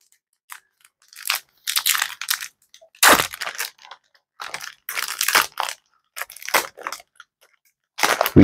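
A Fallout-themed Magic: The Gathering booster pack's foil wrapper is torn open in a run of loud, close crinkling rips and crunches, in bursts separated by short pauses, with no talking.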